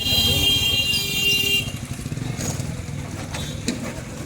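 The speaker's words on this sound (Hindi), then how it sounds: "बाइक लेके जा रहा हूँ, बाइक लेके।" A motorcycle revving and pulling away near a housing society, a loud close engine drone that fades quickly into lower, rougher rumble and background noise, with no speech.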